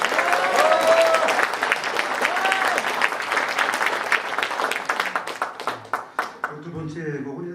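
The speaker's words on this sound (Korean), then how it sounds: "또다시 큰 박수로 모시겠습니다." Audience applause at an orchestra concert in a cultural centre hall, a full, dense round of clapping that thins into scattered individual claps near the end, with some voices underneath.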